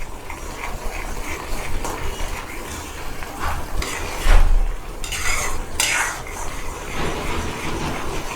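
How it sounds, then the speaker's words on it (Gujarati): Spices cooking in oil for a Gujarati val bean curry, stirred with a metal spoon against the pot over a continuous sizzle, with clinks and scrapes that grow louder midway. "બધા જ મસાલાને સારી રીતે ચડવી લઈશું"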